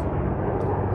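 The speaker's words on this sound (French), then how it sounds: "Oui, non, c'est un hélicoptère." A helicopter passing overhead outdoors gives a steady, loud, low rumble that holds throughout without any talk.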